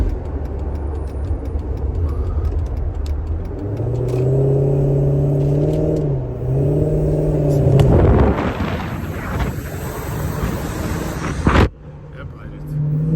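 A rebuilt Dodge Charger fitted with a throttle body spacer, driving up a hill as its engine revs loudly and rises in pitch, with a surging climb, a sharp burst near the end, and a drop back to a lower rumble.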